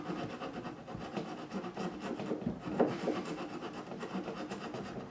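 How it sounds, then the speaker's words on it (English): A small saw recuts the fret slots in the wooden fingerboard of a Gretsch G5422 12-string guitar during a refret. Close, steady back-and-forth rasping strokes repeat continuously. "every time I'm going to resaw these slots"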